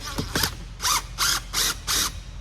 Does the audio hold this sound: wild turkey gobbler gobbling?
no